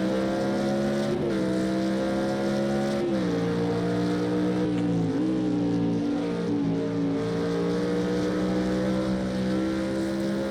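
GT1 race car engine howling at Spa in Project Cars 2 during an online race, a loud steady drone near and constant with pitch shifts as gears change and revs rise.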